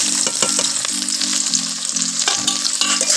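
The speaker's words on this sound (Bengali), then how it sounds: "কড়াইতে তেল বসিয়ে দিয়েছি বেরেস্তা ভাজার জন্য আমি পেঁয়াজটা দিয়ে দেবো" Onions frying in hot oil in a kadai for biryani beresta, a loud, dense, continuous sizzle with a steady hum underneath, close up and with no voices.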